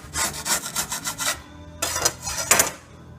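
A scraper dragged across an abused wooden workbench top in quick rhythmic rasping strokes, a steady run of close, harsh scrapes, then a pause and a few more strokes.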